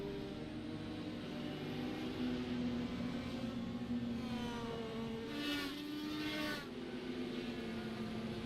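IndyCar race cars in the iRacing sim at the Milwaukee Mile, taking the wave around: a steady engine drone with several cars passing and rising, revving pitches over about eight seconds, no voices.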